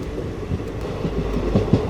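A passenger train on the Nilambur to Palakkad line rolls past the small Pattikkad railway station, a steady loud rumble with faint wheel clatter, heard from on board with no talk.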